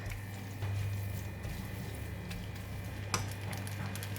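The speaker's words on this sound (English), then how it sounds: "Give it a stir. Continue to cook until the kway teow is soft and cooked." Kway teow rice noodles with lap cheong frying in a hot pan with oyster and soy sauce, giving a steady close sizzle under a low hum, with faint scraping as they are stirred.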